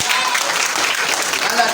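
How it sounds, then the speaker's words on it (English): A crowd at a high school applauds its principal, a dense, loud wash of clapping and cheering voices that runs steadily for the whole short moment. "Please, a round of applause for our principal."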